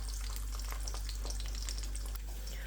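Garlic frying in hot oil in a pan for a Malaysian bean sprout dish, giving a steady close sizzle with bursts of crackling and spitting throughout, and no talk.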